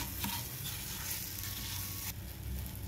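Semolina shira with banana pieces roasting in a pan, giving a soft, steady sizzle and low stirring texture throughout, fairly quiet and continuous with no voices.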